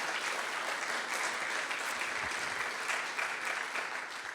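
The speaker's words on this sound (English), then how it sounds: "Can we get another round of applause for Sacha?" An audience at a mayors' summit in New Orleans applauds steadily, a dense wash of many hands clapping at even volume throughout with no voices on top.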